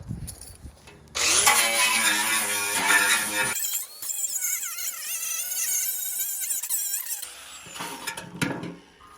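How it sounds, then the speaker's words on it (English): A pneumatic needle scaler chatters steadily against a John Deere LA145 lawn tractor, knocking off rust buildup, loud and close in a long continuous burst with a dense buzzing rattle, then stopping before a shorter tool run. "This is just a needler. It just goes back and forth, and takes the rust buildup around here."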